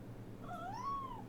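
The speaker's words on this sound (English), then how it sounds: "I believe we have a stray cat on board the ship." A stray cat aboard a ship gives a single drawn-out rising-and-falling meow, faint over a low engine-like hum.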